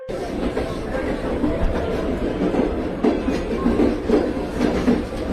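Dutch train carrying weapons rolls past with heavy, continuous rumble and rhythmic clickety-clack of wheels over rail joints, loud and close throughout.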